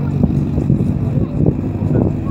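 A 1975 Innocenti Cooper 1300 race car, number 39, with a reworked 1293 cc engine, drones loudly and steadily at a historic hill climb, its low engine note rising and falling slightly.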